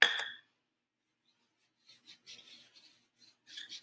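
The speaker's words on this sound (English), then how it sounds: "put it on the rolling pin. Just keep rolling." A wooden rolling pin rolls over floured cookie dough about half an inch thick. A short rasping rub opens the clip, then after a pause come softer, intermittent scraping passes close by.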